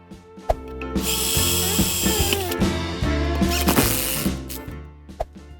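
A power drill boring a hole through the middle of a long M10 steel coupling nut, the motor whining loudly and steadily for several seconds with clanks and knocks of the workpiece, starting and stopping near the end.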